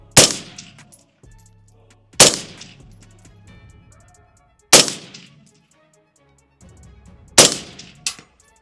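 Suppressed rifle shots from a general-purpose rifle, four sharp reports spaced a couple of seconds apart with a quick fifth shot near the end, each decaying into a brief ring, close and loud with no talk.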